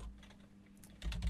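Typing on a computer keyboard, entering commands for a box plot in data software, with a run of quick key clicks that grows louder and denser toward the end, close by and alone.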